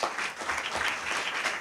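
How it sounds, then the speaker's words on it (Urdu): Church congregation applauding for Jesus Christ after a sermon on the devil's defeat: a brief burst of steady, moderately loud clapping from many hands. "زوردار تالیاں بجائیں گے یسوع مسیح کے لیے۔"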